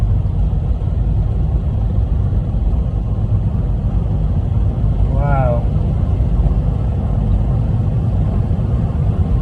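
A steady low engine drone runs throughout from inside a moving 1958 Wolseley 1500 classic car, with brief speech partway through.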